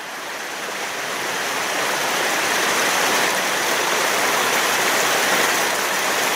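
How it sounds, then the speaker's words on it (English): Rain pours outdoors on a fall day as a loud, dense, continuous hiss that swells slightly and holds steady throughout, with no voices. "Beautiful fall day in the rain."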